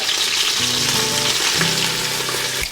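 Green chillies, mint and coriander frying in hot ghee-based oil with bay leaves for a Hyderabadi chicken dum biryani, a loud continuous sizzle close up, swelling briefly as ingredients hit the pan, with no talking.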